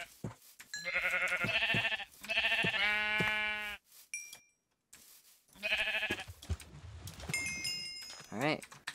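Sheep bleating in Minecraft, several harmonic bleats in quick succession over about nine seconds, loud and close, with game sound effects and tapping in between.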